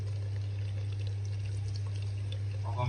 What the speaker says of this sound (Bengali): এখন দিয়ে দিব দুধ।